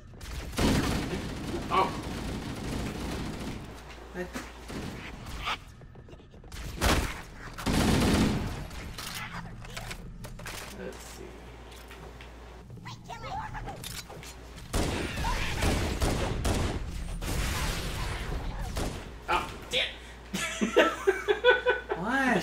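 Automatic gunfire from Halo CE Anniversary erupts in several loud bursts spread across the stretch, with a player's exclamations and laughter breaking in between.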